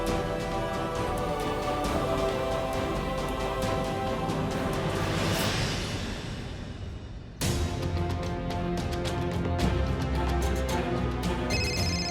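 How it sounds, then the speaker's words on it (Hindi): A repeating ringtone-like electronic tone plays over music, pausing briefly before continuing, fairly loud and close. "रानीसा का फोन"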